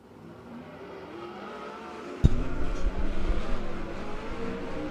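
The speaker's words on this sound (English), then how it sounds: "Next set of cars on the green now, 46 Junior, Joel Myers Jr." A loud engine roar bursts in and keeps droning steadily as race cars accelerate away on the green flag during sprint qualifying at Keller Auto Speedway, after a quieter rumbling background.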